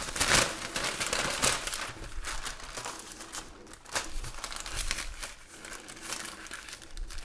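A sheet of parchment paper is crinkled and handled close up, giving repeated crisp rustles and crackles with no voice.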